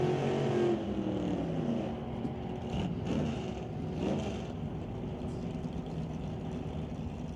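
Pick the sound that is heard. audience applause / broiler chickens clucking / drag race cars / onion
drag race cars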